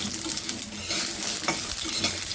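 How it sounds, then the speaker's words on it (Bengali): Lentil dumplings (bori) fry in hot oil with a loud, dense crackling sizzle, stirred now and then with a few soft scrapes, heard up close with no voices. "বেউরিটা ভেজে নিচ্ছি"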